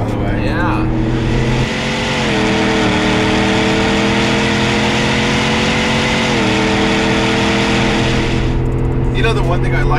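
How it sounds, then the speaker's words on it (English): A supercharged GMC Yukon AT4 full-size SUV engine pulls hard under sustained acceleration, its loud, steady exhaust note rising and shifting pitch through two gear changes, with occupants talking over it at the start and end. "it's got a great exhaust note, and you don't have any annoying supercharger whine"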